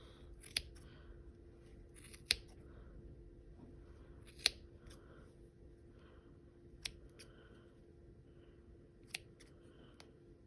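Scissors snip through yarn while a knitted pom pom is trimmed, with about five crisp, isolated cuts spaced a couple of seconds apart against a quiet room.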